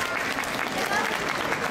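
An audience claps steadily and evenly at an outdoor yosakoi dance event, a dense continuous patter of many hands close by, with no pauses.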